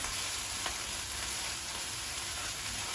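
Curry base frying in a pan while being stirred, a continuous close sizzle with occasional faint scrape of the spoon and no talking.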